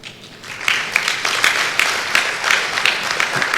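A convocation audience at a university ceremony in Salem breaks into brief clapping, a loud burst of hand claps with distinct individual claps standing out.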